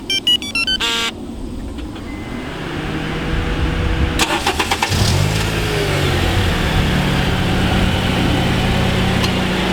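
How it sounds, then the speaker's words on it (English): A Honda Accord coupe engine starting by remote starter: a few electronic beeps, then the starter cranks briefly and the engine catches and settles into a steady idle, with no talking. "I can actually start my car with my remote starter."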